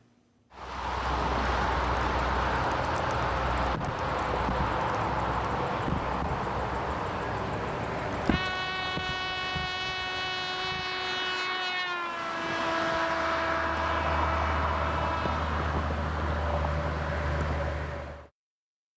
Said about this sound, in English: Now, we'll listen to the trumpet as it drives by.